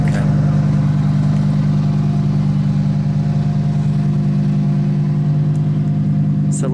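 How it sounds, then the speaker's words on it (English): A 2019 Lamborghini Huracan Performante Spyder with its stock exhaust idles steadily up close, a loud, even engine drone that holds without revving for several seconds. "this is a stock exhaust that I'm hearing"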